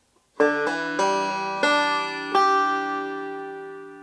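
Plucked banjo notes ring out in a short phrase: a sharp pick, a quick hammer-on on the 4th string with the middle finger, then two more bright plucks, each left to ring and fade.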